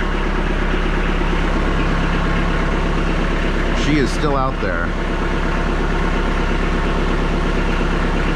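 A Kubota B3200 tractor engine idles at low RPM, a steady low rumble running throughout beneath a person talking nearby.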